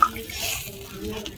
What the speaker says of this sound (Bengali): আমি জল ঢেলে দেবো।